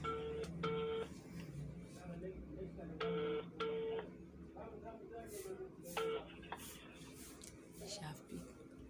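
A phone call's ringback tone repeats in paired bursts with gaps between them, faint and close, while faint background sounds continue underneath.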